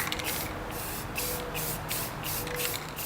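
Short bursts of light paint mist from a spray can or airbrush coat a gun in camo, each puff a soft hiss repeating roughly every half second over a steady background.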